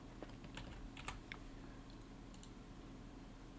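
Typing on a computer keyboard sounds as a few quick, soft key clicks near the start, faint over a steady low hum, with no voices.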